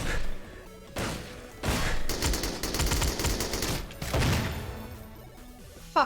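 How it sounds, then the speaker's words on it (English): Shotgun and other gunfire in the GoldenEye video game, coming as repeated bursts of loud blasts with short gaps between them, with no talking over them. "Fucking shotgun, man,"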